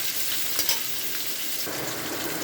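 Onions fry in a pan with a steady, fairly quiet sizzling hiss, broken by a couple of light stirring knocks near the start.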